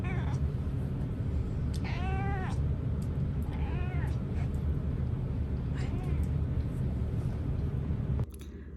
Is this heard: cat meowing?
yes